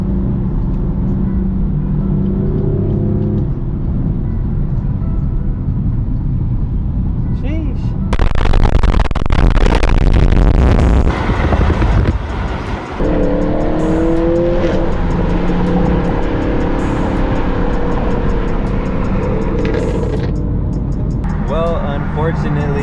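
A manual BMW M4 Competition drives through traffic, its engine droning steadily, then a loud stretch of sharp revving and crackling, popping bursts before it settles back to a lower hum.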